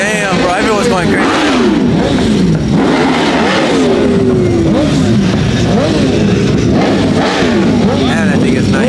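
A Nissan GTR revving and driving past among a crowd of cars, loud engine whines rising and falling, repeated shifting pitch sweeps over steady rumble, with people talking loudly throughout.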